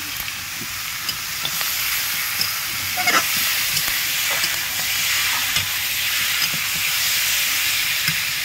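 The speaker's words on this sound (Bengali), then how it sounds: "পাঁচ মিনিট মতন এরকম করে ভেজে নেবো মাংসটা নিয়ে।" Turmeric- and salt-rubbed country chicken frying in oil with browned onions, a steady hissing sizzle with occasional stirring clicks, close and continuous.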